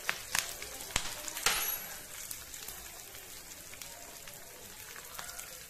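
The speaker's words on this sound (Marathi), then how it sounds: "म्हणजे खरपूस भाजून घ्यायचं, कढीपत्ता आणि हे सुके मिरची टाकून घ्यायचं" Curry leaves and dried red chillies crackle and sizzle in hot oil in a pan, a faint spattering hiss with a few sharper pops early on, then settling into a soft, steady fizz.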